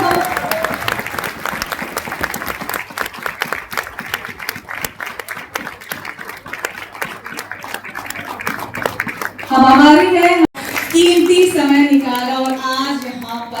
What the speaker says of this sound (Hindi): एक बार जोरदार तालियां ये हॉल गूंजना चाहिए